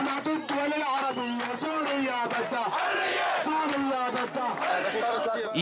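A crowd of protesters of all ages, men, some women and children, in Syria, shouting and chanting together in loud rhythmic unison, with bursts of raised voices, close and continuous.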